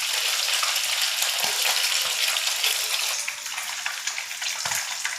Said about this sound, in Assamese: মাছখিনি অকণমান ফ্ৰাই হৈছে, এইখিনি মই ৰঙা হোৱালৈকে ভালকৈ ফ্ৰাই কৰি ল'ম।